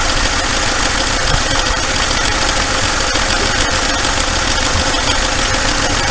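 A diesel engine idles steadily after its fuel injectors have been cleaned with a diesel injector cleaner, a continuous loud mechanical rumble with a faint knocking texture and no voices.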